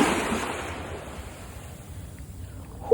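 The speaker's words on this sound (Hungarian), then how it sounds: "A gyönyörű dél-kínai tenger." Surf from the South China Sea washes onto a sandy beach in a soft, steady hiss with a faint breaking swell, blended with light wind noise and no talking.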